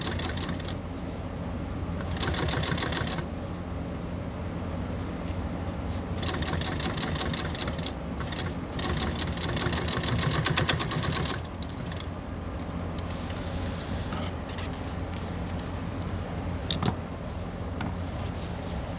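A sewing machine runs stitches through car seat upholstery in bursts of rapid mechanical chatter, with a steady low motor hum and a few pauses between runs, close up and without speech.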